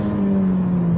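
A Ferrari F430's engine holds a loud, steady drone with a strong low hum, heard up close and unbroken by talk.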